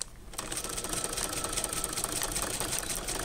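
A sewing machine double stitches a bag made from Capri Sun juice pouches, starting after a brief pause and then running in a rapid, steady mechanical chatter, close and loud.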